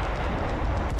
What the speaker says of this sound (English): The problem with artillery, you have to micromanage them quite hard just to get them to shoot where you want them to shoot.